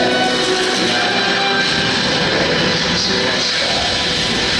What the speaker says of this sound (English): The engines are on.